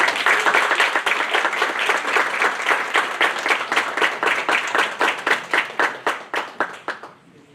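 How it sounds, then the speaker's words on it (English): Sustained applause from a student government senate audience, dense and loud at first, then thinning into distinct individual claps before fading out. "Can we get another round of applause"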